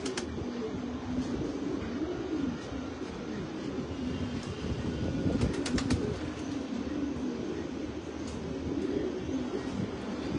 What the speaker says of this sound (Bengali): তারও কয়টা কবুতর ছাড়ি